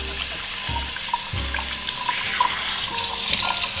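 Tap water runs steadily into a sink while a face is washed after makeup removal, with close splashing, a few low sloshes and small droplet spatters throughout.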